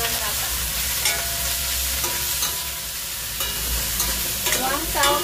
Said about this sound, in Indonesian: Aduk-aduk sampai bumbu dan tahu tercampur dengan rata